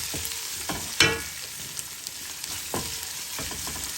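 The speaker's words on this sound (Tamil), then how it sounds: "எல்லாத்தையும் சேர்த்து வதங்க விடுவோம்" Ingredients sauté in a pan with a continuous oily sizzle, broken by a few sharp clatters of a spoon stirring against the pan. One louder scrape comes near the start.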